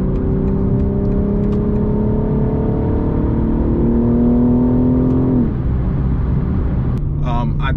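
A BMW G80 M3, just fitted with a new steering rack, drives with a steady engine drone and road rumble inside the cabin, the pitch rising slightly before dropping as it eases off, and a voice briefly heard near the end.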